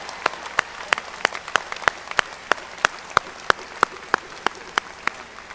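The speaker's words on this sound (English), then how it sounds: "I think he deserves another round of applause" Clapping sounds at a university presidential inauguration, heard as about seventeen sharp, evenly spaced claps in a slow, steady rhythm, fairly faint over a quiet room.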